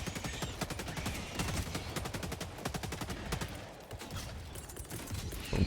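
Gunfire and mortars in Helldivers 2 on difficulty 9, rapid continuous bursts of shots with dull thuds mixed in, steady and moderately distant throughout.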